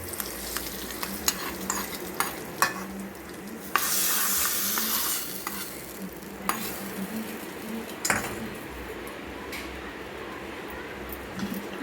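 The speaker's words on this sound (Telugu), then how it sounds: "ఇప్పుడు మనం ఈ తాలింపుని పచ్చడి మీద వేసేసుకుందాం." Hot tempering of fried lentils poured from a pan onto coriander-tomato chutney, giving a sudden loud sizzle burst, with scattered clinks of a metal spoon and pot before and after and a second smaller sizzle later, no talk.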